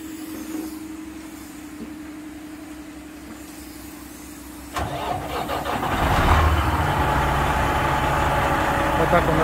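A truck with a manual gearbox, eight months after repair, idles quietly before its engine cranks and fires, then settles into a steady, loud, close running rumble; a voice is heard in the background.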